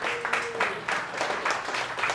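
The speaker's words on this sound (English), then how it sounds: "give him a round of applause" Audience at a ReactNYC live event claps for a volunteer, a moderate burst of applause from a modest crowd with brief pulses of clapping, fairly close and not very loud.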